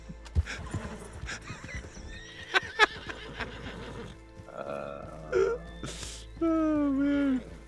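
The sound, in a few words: horse neighing and galloping in a video game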